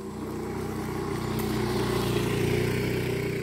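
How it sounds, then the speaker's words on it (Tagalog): A motorcycle engine idles close by, a steady, even putter with a slight rise in the last second, heard alone without talking. "Papatay yung motor."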